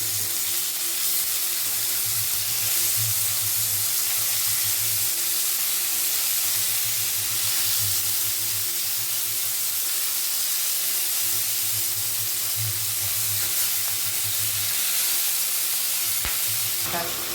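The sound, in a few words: fish frying in a pan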